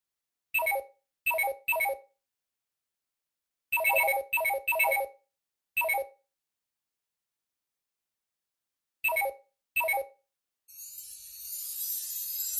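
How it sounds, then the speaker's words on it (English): Chimes ringing in short clustered strikes, bright bell-like tones in groups of two and three separated by silences, alone and close, followed by a shimmering wash of sustained high tinkling at the end. "The chimes make this sound."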